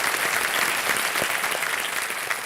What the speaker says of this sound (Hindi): जोरदार तालियां स्वागत की।